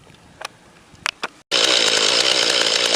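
A small Mantis tiller engine runs steadily after a few light clicks and a short silence, a loud, close, buzzing two-stroke drone holding an even pitch while it warms up.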